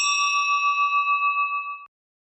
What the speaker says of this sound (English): So the bell has rung and the doors have closed.